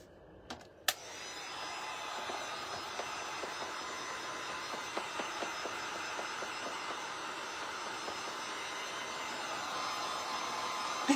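A hair dryer runs steadily and continuously while drying a freshly painted door hanger, its close, even blowing roar holding for the whole stretch after a couple of sharp knocks at the start.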